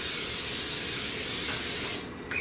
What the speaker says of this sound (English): And we're gonna just give it a light spray.